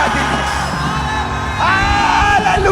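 Worship congregation in a church shouting and yelling together, a loud sustained crowd roar with rising whoops and bellows layered over music.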